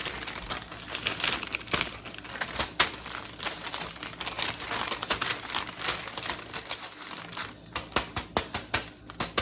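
Crepe paper crinkles and rustles continuously as it is rolled and handled close by, with irregular crisp crackles and a few sharper snaps toward the end.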